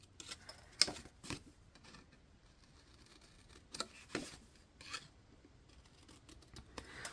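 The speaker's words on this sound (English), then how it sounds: "Just cut both ways and cut that little 1/2 inch square out" Scissors snip out small half-inch paper squares along score lines for a wedding album craft, giving quiet, sparse clicks and cuts spread irregularly through near silence.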